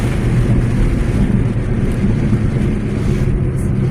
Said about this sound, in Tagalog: Tingnan nyo, grabe, grabe talaga malakas hangin.